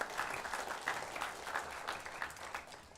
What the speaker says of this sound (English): So parents, give yourselves a round of applause.